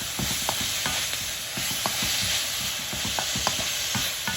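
Salmon and vegetables stir-fry in a wok with an Asian glaze, giving a continuous loud sizzle broken by regular scraping and tossing clatters of the utensil against the pan.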